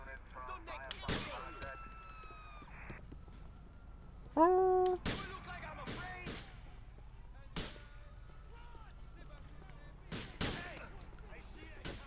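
Sharp video game pistol gunshots crack at irregular intervals, a few spread over several seconds, mixed with chirpy electronic effects and voices talking.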